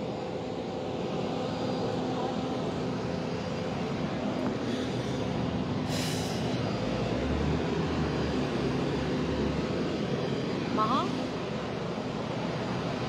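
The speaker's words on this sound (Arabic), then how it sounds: "بانتظار وصول الطائرة القطرية" A jet aircraft engine drones steadily in the distance at Rafic Hariri Airport in Beirut, with a low roar over the open air and faint background noise.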